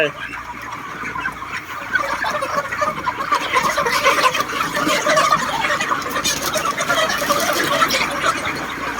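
Chickens on a poultry farm in Israel, a constant mass of clucking and squawking birds close by, forming a busy, continuous din that grows slightly louder after the first two seconds.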